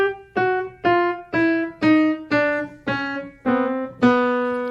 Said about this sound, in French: C'est une descente chromatique, c'est un chat qui marche sur un piano.